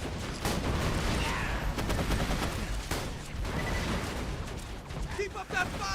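Turret gunfire in a video game, loud continuous bursts and heavy rumbling blasts filling the whole stretch, with game voices shouting over the shooting.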